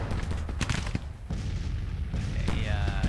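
Booming artillery fire in a Civil War strategy video game, several heavy blasts and crackling volleys rolling one after another, loud and close.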